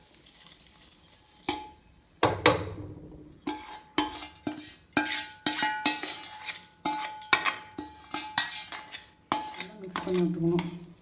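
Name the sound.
stirring ghee tempering into venn pongal in a pot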